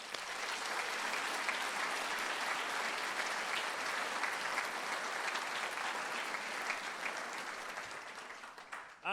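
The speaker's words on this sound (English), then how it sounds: "So a round of applause for Mike Houston." Sustained audience applause at a school's 60th anniversary celebration, a dense, even wash of many hands clapping for about nine seconds, steady and moderately loud before tapering slightly at the end.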